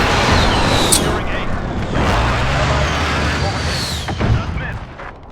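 Tank cannon fire in Call of Duty: Modern Warfare, heavy booming blasts with sharp cracks and rolling rumble amid ongoing battle noise, loud and close, with someone talking over it.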